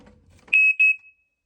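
A smoke alarm above a staircase is tested, giving two loud, piercing electronic beeps close by in quick succession, each about a fifth of a second, followed by a brief faint tail and silence.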